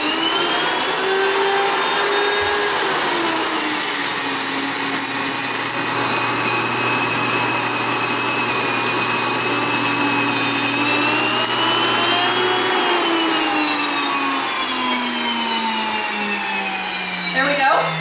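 An electric wheat grinder set fine for bread flour runs loudly and steadily, a continuous high whine and roar that holds at constant strength and winds down slightly near the end.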